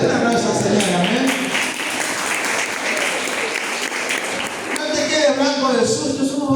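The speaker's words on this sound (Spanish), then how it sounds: "Yo doy un aplauso al Señor" Congregation applause during a Spanish-language church sermon, a continuous wash of clapping that rises and swells, with a preacher's voice carrying over it.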